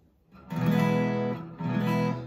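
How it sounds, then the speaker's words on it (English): A slower, firmer raked strum on an acoustic guitar that gives a crack sound, struck twice with a sharp attack and full ringing chords, close and clear with no talking. "it's got that crack sound."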